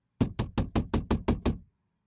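Someone banging on a door: eight loud, evenly spaced knocks in a quick steady rhythm, close and sharp, then silence, with no talk.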